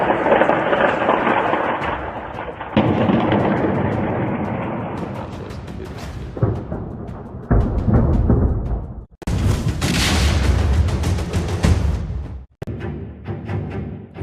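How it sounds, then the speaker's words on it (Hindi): A series of heavy, rumbling explosions near a metro in Kyiv during wartime attacks, loud and close, with bursts of roaring noise and short gaps between them. "राजधानी कीव में मेट्रो के पास एकाएक कई धमाके की आवाज से गूंज उठा शहर"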